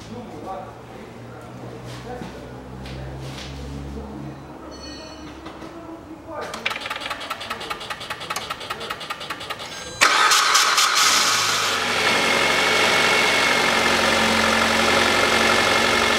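A 2007 Citroen C-Crosser 2.4 petrol engine cranks with a rapid rhythmic churn, fires and settles into a loud, steady idle nearby, without speech.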